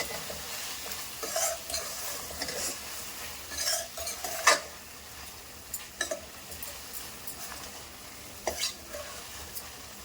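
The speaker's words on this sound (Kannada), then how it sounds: "ಹಾಕಿ ಇದು ಹಸಿ ವಾಸನೆ ಹೋಗೋ ತನಕ ಸ್ವಲ್ಪ ಫ್ರೈ ಮಾಡ್ಕೊಂಡಿರ್ಬೇಕು" Chicken masala fries quietly in a pan, with a soft steady sizzle broken by repeated scraping and clinking stirs of a utensil against the pan.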